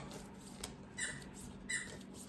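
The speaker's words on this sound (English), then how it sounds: "they're playing with their squeaky toy." Squeaky toy being played with indoors: two or three short, faint squeaks at irregular intervals, somewhat distant over a low background hum, with no talk.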